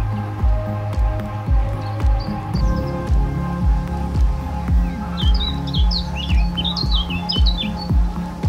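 Birds chirp in a bird sanctuary on the Weser floodplain near Petershagen, with light high tweets that cluster later on over a steady rhythm of low thumps.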